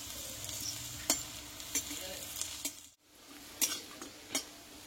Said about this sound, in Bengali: দেখো দুই পিঠ এইভাবে ভালোভাবে ভেজে নিতে হবে।